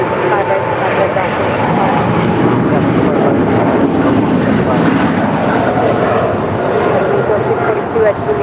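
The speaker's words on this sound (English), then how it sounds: "That's Korean Air Cargo Flight 274 departing to Seoul. It's a 5-year-old 777 freighter." A five-year-old Korean Air Cargo Boeing 777 freighter departing LAX, its jet engines making a loud, sustained low roar with wind rumble, continuous and unbroken across the whole stretch.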